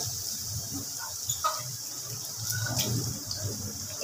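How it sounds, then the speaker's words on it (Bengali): Water poured from a spice-rinse bowl into a cooking pan for a curd katla fish curry, a steady close splashing stream running the whole time with no talk. "এবার এই মশলা ধোয়া বাটির জলটা দিয়ে দেব।"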